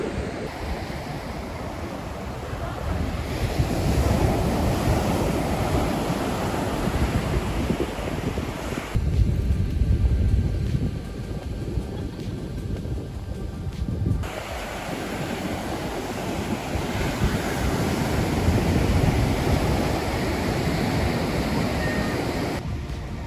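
Sea waves washing onto the shore at Hamamatsu, Japan, a continuous rolling surge with swells rising and falling, mixed with heavy wind buffeting the microphone; no talking.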